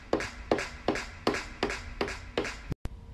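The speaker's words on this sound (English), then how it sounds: "Then I decided to put some claps on it." Synth track built in Logic with clap hits added: six loud, evenly spaced claps land about every half second over a sustained synth layer, with a brief dropout near the end.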